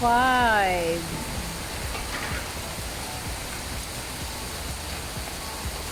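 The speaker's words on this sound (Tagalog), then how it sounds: "Grabe, ang lakas ng ulan" Steady heavy rain hissing throughout in the Philippines, with a brief voice or tonal sound at the very start before the downpour carries on alone.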